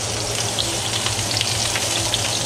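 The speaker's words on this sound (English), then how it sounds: "I'm going to baste a little bit of this butter and seasoning on top of here" A tomahawk ribeye steak sizzles loudly and steadily in a stovetop pan while being basted with butter and seasoning, a dense continuous crackle and spit close by.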